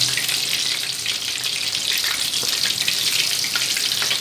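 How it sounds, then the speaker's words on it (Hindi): Fish frying in hot oil, a loud, steady, close sizzle that crackles and spits continuously throughout with no voices. "तो मैं साइड इस तरह से कर रही हूँ ताकि अंदर तक तेल जाए"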